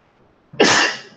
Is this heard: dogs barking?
no